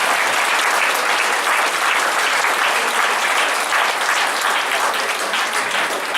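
A church congregation applauds during a sermon, a loud, dense, continuous wash of many hands clapping together, sustained evenly without a break.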